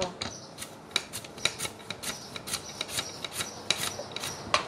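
A mandoline slicer cuts vegetables into small decorative shapes. Close, rhythmic scraping strokes repeat roughly a dozen times at a steady pace, with no voices.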